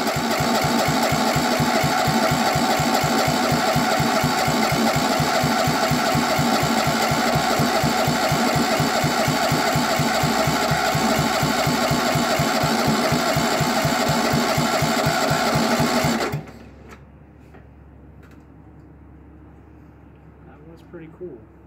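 A 16hp Onan engine on a Sears Suburban hydro tractor runs with a loud, steady, rapid chugging for about sixteen seconds, then cuts out abruptly, leaving near silence with a few faint clicks.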